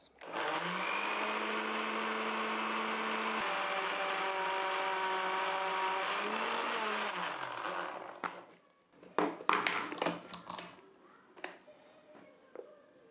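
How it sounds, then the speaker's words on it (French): Frozen figs whirring in a kitchen blender for a fig milkshake, a loud steady motor drone lasting about eight seconds that winds down, followed by clattering and handling sounds of the jug and lid. "On passe au mixeur."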